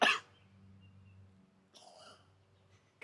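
A bird imitates a cough with one sharp, loud cough-like burst, followed by softer raspy sounds and a brief second burst.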